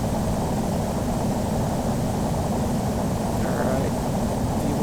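Boeing 737-800 takeoff roll in Microsoft Flight Simulator 2020 on a stormy night at Albany, a steady loud roar of jet engines and rumbling wheels throughout, constant and unbroken.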